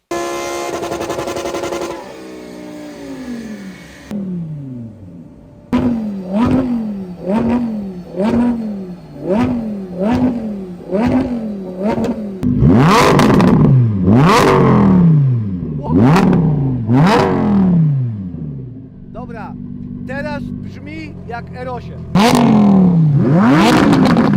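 A car with an aftermarket exhaust system revs hard on a dyno, a loud, close series of sharp throttle blips, each rising and falling quickly, with longer sustained pulls near the end.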